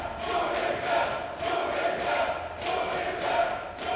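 An esports crowd at a League of Legends EU LCS match between OG and Unicorns of Love, cheering and chanting in rhythmic swells, loud and sustained through the whole stretch with no clear talk.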